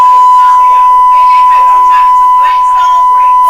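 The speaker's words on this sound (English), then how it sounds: "My apologies for the beeping, but that is the equipment of the officers that are doing the filming of this incident." Steady high electronic beeping tone from police officers' equipment runs throughout, with people talking over it.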